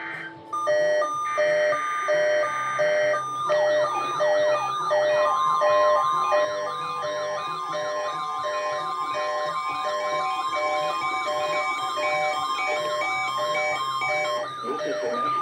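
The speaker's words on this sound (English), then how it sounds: "sounds you just heard were a test of the specific area message encoding into an alert systems." Specific Area Message Encoding alert tones from a weather radio test broadcast by a National Weather Service office in State College, Pennsylvania: loud, continuous warbling data bursts and shifting electronic tones filling the whole stretch, with no voice over them.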